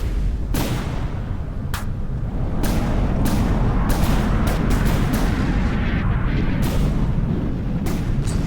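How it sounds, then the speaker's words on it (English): Missiles and gunfire in the naval combat video game From the Depths: a dense roar of blasts and booms with repeated sharp shots, loud and continuous, no voices. "there's quite a few missiles flying out and about in this episode"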